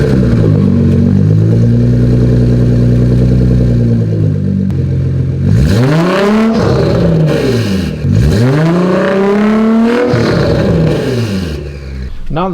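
Widebody Nissan GTR engine idling close by, then revving in two rising and falling sweeps as the car is driven out, loud throughout.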